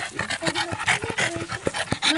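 Small dogs panting rapidly at a family Chile national holiday celebration, quick breathy rhythmic puffs close by, fairly faint, with no talk over them.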